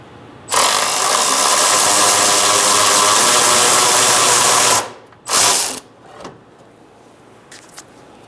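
A ratchet wrench loosens the nut holding the washer fluid reservoir on a 2014-2018 Subaru Forester, giving a loud, close, continuous clicking run of about four seconds, then a short second burst and a few faint knocks.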